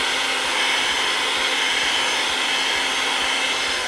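A lemon curd mixture of egg, sugar and a pinch of salt is whisked, producing a steady, loud, unbroken machine whir that holds evenly for several seconds.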